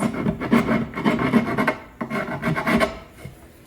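Old glue being scraped off the tenons of a wooden furniture joint: steady, close rasping strokes in two bursts with a brief pause between, no voices.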